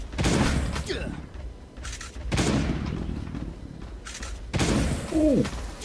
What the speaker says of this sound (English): the shotgun is really weird now